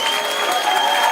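A studio audience claps steadily for a contestant on a French game show, a short dense burst of applause.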